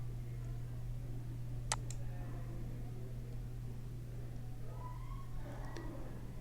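Mouse clicks on the File menu in a Microsoft Word document: two quick, faint clicks close together, then one more soft click a few seconds later, over a steady low hum and no talking.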